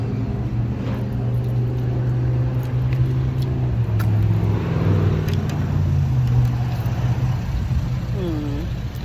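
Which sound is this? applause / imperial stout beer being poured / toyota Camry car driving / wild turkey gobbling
toyota Camry car driving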